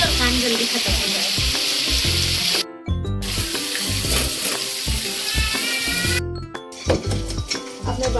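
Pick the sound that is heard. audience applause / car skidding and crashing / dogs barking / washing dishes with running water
washing dishes with running water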